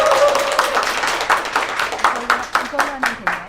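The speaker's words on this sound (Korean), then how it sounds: "박수 부탁드립니다" Audience at a book concert claps to welcome an author onto the stage, a close, fairly loud patter of hands with a voice speaking over it.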